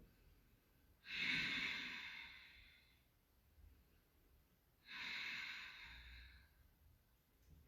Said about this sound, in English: If you know your Ujjayi breath, this is a really good breathing technique for winter